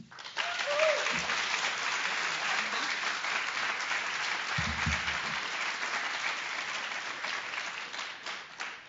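An indoor audience at a University of Oklahoma staff address claps steadily for the university president, a dense, even wash of applause lasting throughout, with a couple of faint low thumps underneath.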